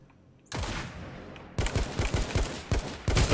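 Gunfire in the Anarea battle royale video game: a dense volley starts half a second in, pauses, then returns as rapid repeated shots in bursts, loud and close with no talking.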